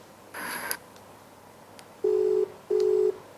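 Telephone being dialed: a short burst of keypad tones, then two steady beeping tones of about half a second each, like a ringback or busy signal, heard clearly over faint background hiss.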